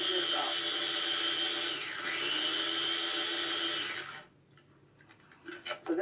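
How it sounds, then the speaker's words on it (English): A mini food processor grinding orange with half a cup of sugar whirs steadily and loudly for about four seconds, then stops, leaving faint clicks and handling noise. "Put it right into a mini food processor with half a cup of sugar."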